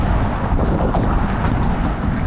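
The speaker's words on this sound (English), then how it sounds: "It's very windy out here" Strong, steady wind at the Golden Gate Overlook in San Francisco buffets the microphone with a continuous low roar, loud and close, with no voices.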